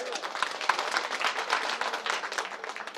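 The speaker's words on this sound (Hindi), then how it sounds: "एक बार लक्ष्मण के नाम की ताली बजाए" A crowd at a Ramayana katha performance claps for Lakshman, brisk and uneven hand claps throughout, fairly close and lively.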